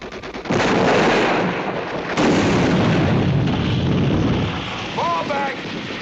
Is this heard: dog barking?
no